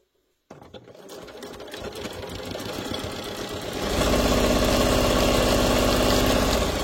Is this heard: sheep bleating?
no